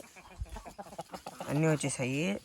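On a farm, after a moment of murmured talking, a rooster crows loudly and close by, a drawn-out call broken into two strained parts.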